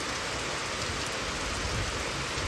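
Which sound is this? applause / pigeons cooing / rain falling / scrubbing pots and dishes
rain falling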